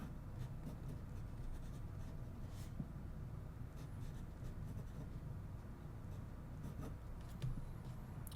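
Jinhao 9013 fountain pen with a fine, non-flexible nib writing on a Rhodia journal page, giving a steady, faint scratchy rub of strokes close up, with no voices.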